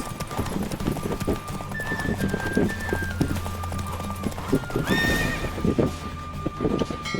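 A horse in The Witcher 3: Wild Hunt gallops with fast, steady clip-clop hoofbeats, whinnying loudly partway through, while voices murmur in the background.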